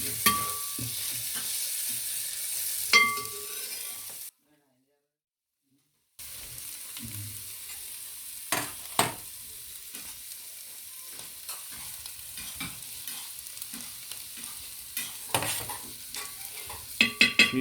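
Chili powder and coriander powder frying in a pan for Kerala-style pork fry, a soft sizzle with a spoon scraping and stirring in bursts, close up, with a short silent gap early on.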